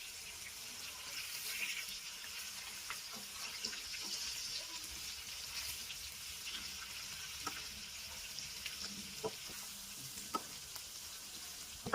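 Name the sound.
fish pieces frying in oil until golden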